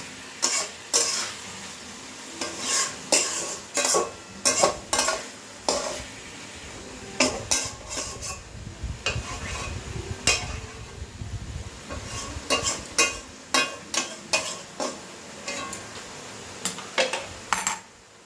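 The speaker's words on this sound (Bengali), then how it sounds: "দেখতেই পাচ্ছেন বন্ধুরা, এটা চিকেনগুলো দেখুন কালার চেঞ্জ হচ্ছে, তা ভালো করে কষে নিতে হবে।" Chicken stir-fried with ground spice paste in a pan, with a steady run of sharp spoon-against-pan scrapes and clinks over a low sizzle, close and fairly loud, no voices.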